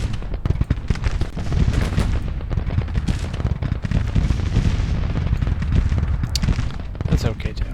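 A Civil War battalion firing rifles in Grand Tactician at the Battle of Antietam: dense, continuous crackling volleys of musketry layered over a low battle rumble, loud and unbroken throughout.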